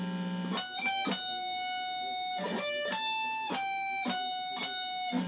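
An electric guitar plays the closing phrase of an intro solo, a run of cleanly picked single notes that ring out and sustain between attacks, heard alone at close range.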